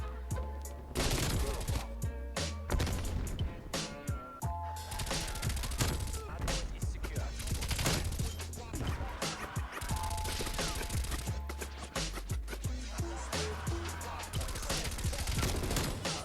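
Sustained automatic fire from a Stoner 63 light machine gun in Black Ops Cold War, dense rapid bursts with impacts and explosions layered throughout, loud and close with faint voices underneath.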